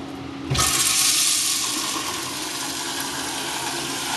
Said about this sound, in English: The toilets also have a two-flush feature that, depending on the use, can help cut down on the use of water.